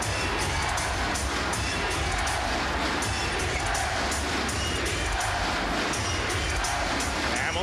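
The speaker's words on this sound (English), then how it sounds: "That's the first time we hit the thunder sticks clapping in about 3" A packed arena crowd at a 2003 NBA playoff game between the Magic and Pistons bangs thunder sticks in a dense, continuous roar of clapping and cheering that stays loud throughout.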